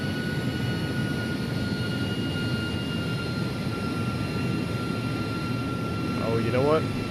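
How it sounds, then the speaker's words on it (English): Airbus A300-600 jet engines in a flight simulator game give a steady, even roar with a high whine running throughout, and someone speaks briefly near the end. "Love those engine sounds."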